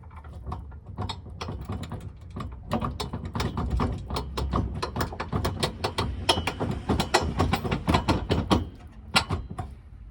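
A ratchet tightens bolts and nuts on a factory trailer hitch being installed on a RAV, giving rapid clicking bursts in quick, uneven runs, close and loud, with brief pauses between strokes.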